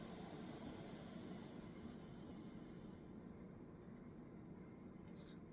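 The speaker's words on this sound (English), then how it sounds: "Overly loud computer." Computer cooling fans forced to maximum speed blow a loud, steady broadband whoosh that fills the whole clip, a constant airy roar with no breaks.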